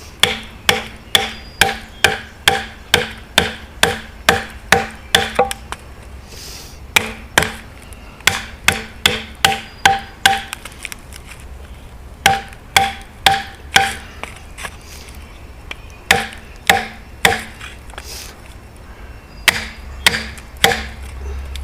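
Knife blade hammered down through plywood, loud sharp close hammer blows in quick regular runs, about two strikes per second, with brief pauses between bursts.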